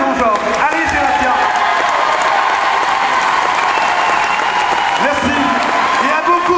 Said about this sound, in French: Je voudrais que vous applaudissiez Sébastien Jean-Georges.